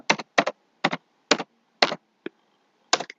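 Keys on a computer keyboard being typed in short separate bursts of quick clicks, close and clear with silent pauses between them and no voices.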